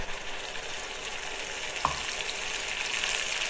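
Spice masala cooks with well-browned onions in a pan for a mutton curry, an even moderate sizzle with one sharp stir or tap midway and the frying swelling slightly afterward, no voices.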